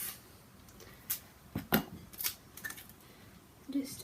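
Scissors snipping a small piece of material while building a homemade rain gauge, heard as a few quiet, close clicks and cuts among faint handling rustles.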